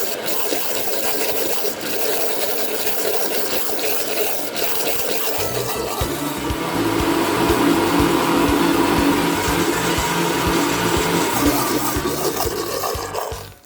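A blender whirs steadily while turning jerk-marinated beef kidney into a thick paste; a low grinding start builds into a louder, sustained motor roar that runs close and unbroken before cutting off abruptly.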